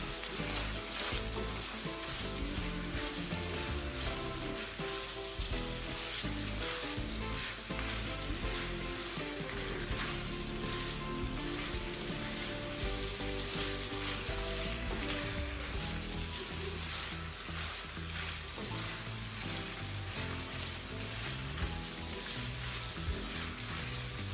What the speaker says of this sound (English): I also going in now with my cooked pasta. So that's just going to mix it up nicely together.